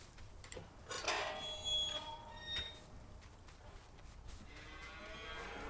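Cattle in the farming game Farming Simulator 19 moo in a few drawn-out calls, fairly faint and layered over a steady background hum, with no talking.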